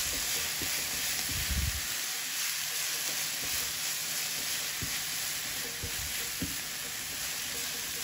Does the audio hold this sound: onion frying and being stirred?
yes